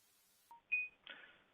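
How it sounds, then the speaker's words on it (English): Phone notification chime, a short electronic tone sequence of rising beeps followed by a brief softer shimmer, clear and isolated against near silence in a quiet room. "If you heard my phone chime in there"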